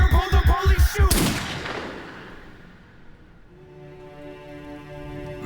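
A burst of rapid gunshots serves as a sound effect within a rock song about domestic violence, loud and percussive at the start, then ringing out and fading into sustained musical tones.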